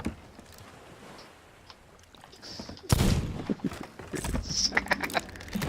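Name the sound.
ship cannons firing, from the video game Sea of Thieves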